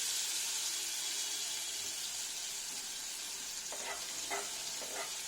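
Fenugreek seeds fry in hot oil in a pan, giving a soft, even hiss that runs unbroken, with a few faint clinks near the end.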